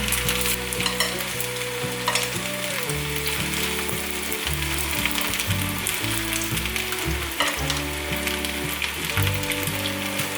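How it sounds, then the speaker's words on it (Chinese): Nori-wrapped enoki mushroom pieces pan-fry on their sides in a vegan home-cooking setting, giving a loud, steady, close sizzle with light crackle throughout, while background music plays underneath. "另一面也变色了，现在换成侧边再煎。"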